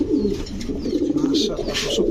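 Breeding fancy pigeons at a pigeon farm coo continuously in low, throaty overlapping calls, close by and steady throughout.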